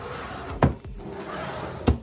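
Two sharp wooden knocks about a second apart, like a drawer being pulled open and pushed shut nearby, with quiet room noise between.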